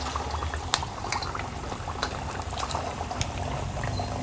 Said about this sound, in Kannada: ಎಣ್ಣೆ ಬಿಸಿಯಾಗಿದೆ. ವಡೆ ಹಾಕ್ಕೊಳ್ಳೋಣ.